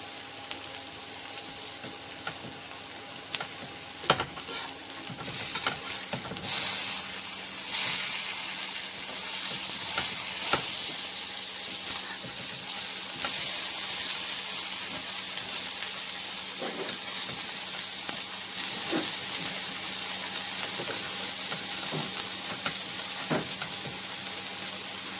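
Sardines (mathi), turned over on a flat iron tava, give off a continuous moderate sizzle with occasional small pops and clicks, steady throughout with no one talking.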